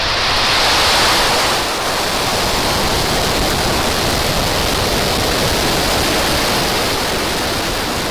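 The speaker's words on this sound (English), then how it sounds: "Ignition. Liftoff!" Falcon 9 rocket engines roar at liftoff on a Starlink launch, a loud, continuous broadband rumble like rushing surf that swells at ignition, then holds steady without letup.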